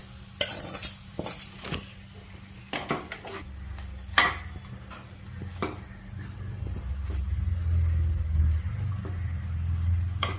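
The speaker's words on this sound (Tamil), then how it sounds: "உருத்து வச்சிருக்க தோரம்பருப்பையும் கடலைப்பருப்பையும் போட்டு நல்லா வதக்கணும்" Toor dal and chana dal are stirred and sautéed with chopped banana flower in a pan, with scraping spatula strokes at first and then a steady low sizzle rising toward the end, with no talk over it.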